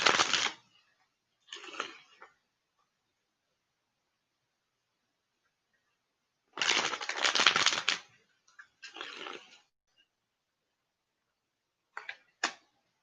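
Tarot cards are shuffled by hand close by in several short, crisp bursts of riffling and rustling, with quiet pauses between them.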